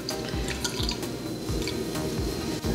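Cold water splashing and dripping in a sink as hands scoop it onto a face during a nighttime skin routine, steady close wet patter and drips with no talking.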